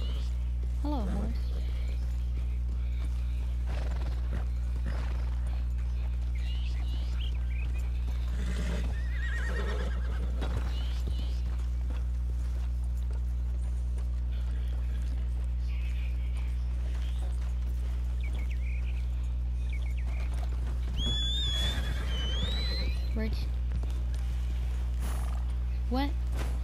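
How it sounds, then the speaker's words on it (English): A horse in Red Dead Redemption 2 neighs and whinnies with clip-clopping hooves, set against a steady low game hum, while a person talks intermittently over it; a sharp, loud whinny stands out near the end. "Hello, horse."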